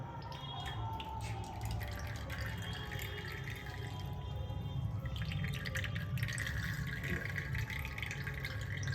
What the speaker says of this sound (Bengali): এবার পুরো ছেঁকে নিয়ে তুমি এই বটলটার মধ্যে ঢেলে রাখছো